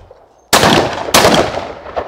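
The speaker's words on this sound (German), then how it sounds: "Für pro Tauben einen Schuss." Two sharp, loud shotgun blasts ring out about half a second apart during skeet shooting at clay pigeons on an outdoor range, each followed by a decaying echo.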